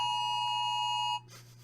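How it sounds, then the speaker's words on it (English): Phone emergency alert tone for a silver alert about a missing elderly person: a loud, steady electronic tone held for over a second, then cutting off to quieter background noise. "Oh, Amber alert. Amber alert. No, silver alert."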